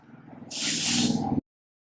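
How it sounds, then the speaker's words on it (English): A single sustained dry shampoo aerosol spray onto hair hisses loudly for about a second, starting abruptly and cutting off cleanly, over a low background hum. "So once I spray my hair"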